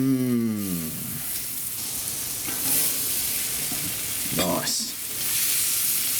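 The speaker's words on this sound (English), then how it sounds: "We want to get these onions nice and caramelised." Onions cook in butter on a barbecue with a steady, close sizzle throughout, broken by a brief scraping stir near the middle.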